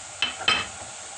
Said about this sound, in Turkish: Şimdi onları güzelce kavuruyoruz.